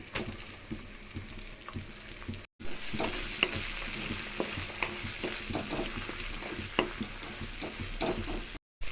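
Chopped tomatoes sizzle and crackle steadily in a hot pan, with frequent scraping clicks from a stirring spoon, broken by two brief silent gaps; no one speaks.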